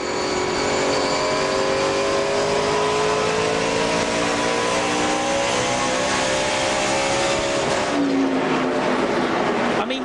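Race car engines roar continuously at high revs from inside a car during a 2005 ARCA RE/MAX Series race at Gateway International Raceway, with pitch climbing and shifting as the car accelerates and changes gear.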